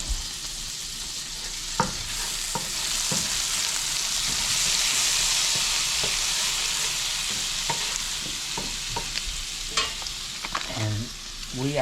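Minced garlic sizzles in a hot pan with a steady frying hiss, broken by scattered scraping and tapping strokes of stirring, close and clear, no voices.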